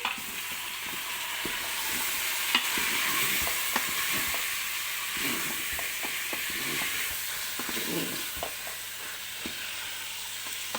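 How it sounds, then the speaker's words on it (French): A seasoned couscous mixture with salt is stirred in a pot, making a continuous hissing sizzle with repeated soft scrapes and knocks of the utensil throughout. "je vais mélanger le tout"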